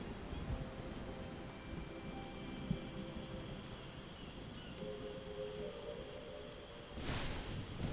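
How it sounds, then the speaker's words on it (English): Steady rain falls across an outdoor scene in AFK Journey, a soft continuous hiss at low volume with faint game tones drifting through and a brief louder swell of rain near the end. "Of course it started raining, by the way, during this, of course."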